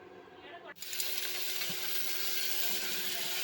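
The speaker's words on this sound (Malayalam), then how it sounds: "2 ടേബിൾ സ്പൂൺ വെളിച്ചെണ്ണ ഒഴിച്ചിട്ട് നമുക്ക് 4 സബോള കട്ട് ചെയ്തത് അതിലേക്ക് ഇട്ട് കൊടുക്കാം ചൂടാകുമ്പോൾ" Sliced onions and green chillies drop into hot coconut oil in a pan, a brief quiet lead-in giving way to a sudden, steady, fairly loud sizzle.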